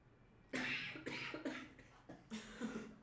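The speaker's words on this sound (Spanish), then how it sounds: "Pausa de tos." A single person coughs in a quick, close fit of about five harsh bursts, fairly loud against a quiet background, with slight throat-clearing at the end.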